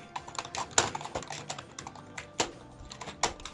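Computer keyboard typing, close and fairly quiet, a run of irregular key clicks with a few sharper taps, no talk.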